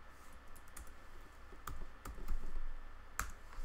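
Keys clatter on a computer keyboard while a file is renamed, a few quick taps followed by sharper isolated keystrokes, close and fairly quiet with no talking.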